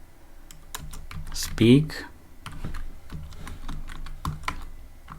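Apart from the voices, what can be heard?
typing code on a computer keyboard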